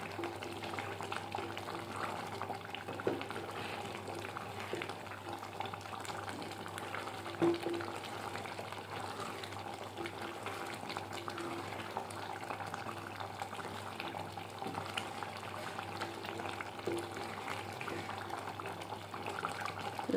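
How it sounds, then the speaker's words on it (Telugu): Tomato chutney for Andhra-style pickle simmers and fries in a pan, a steady soft bubbling and low sizzle that runs evenly throughout with no voices. "ఇది దగ్గర పడే వరకు వేయించుకుందాము"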